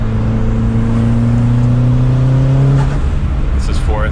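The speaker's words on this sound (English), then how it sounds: "this is fourth gear, just rolling into it just a little bit, barely giving it juice." A Mitsubishi EVO 8 GSR pulls gently in fourth gear under light throttle, its engine drone holding a steady rising tone that fades near the end, with a voice briefly heard over it.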